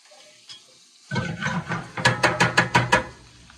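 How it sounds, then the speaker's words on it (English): Onions sauté in a pan, starting almost silent before a burst of sizzle and a quick series of rhythmic stirring scrapes, close and moderately loud. "And we're just gonna get the onions soft. We're gonna try not to brown them."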